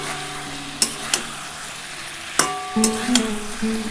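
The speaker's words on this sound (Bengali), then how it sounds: "আমি ভালোভাবে একটু কষিয়ে নিচ্ছি মশলাটা দিয়ে" Spices sautéing in a pan for a vegetarian cauliflower curry give a steady low sizzle, broken by a few sharp spoon clinks against the pan and soft stirring scrapes.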